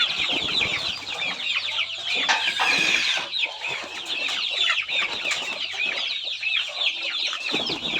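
Young chickens two to three months old, a mix of Buff Orpington, Rhode Island Red and Shamo, cluck and chirp continuously at close range in a busy, overlapping chorus.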